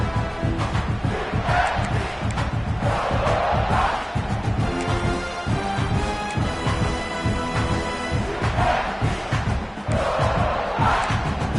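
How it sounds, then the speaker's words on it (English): A large stadium crowd in the video game College Football 26 roars continuously at a South Carolina vs Tennessee game, swelling in loud waves with chanting and yelling, dense and echoing throughout. "Listen to this crowd just shaking the girders of this place"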